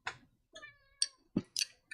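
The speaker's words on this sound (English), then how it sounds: "Hello, Chaos Cat." A house cat meows several times in short separate calls, close by and clear, with no talk over it.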